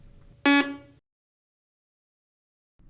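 A PD 6500i walk-through metal detector powers on with a single short, loud electronic beep-buzz, followed by near silence.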